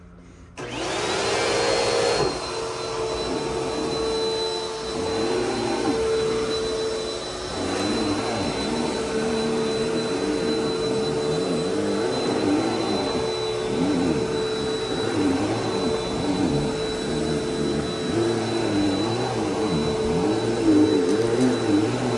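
A Bissell Powerforce Helix Turbo Rewind vacuum cleaner switches on and runs with a loud, steady whining roar, crunching over debris at a friend's house, its pitch wavering as it moves, close by throughout with no talking.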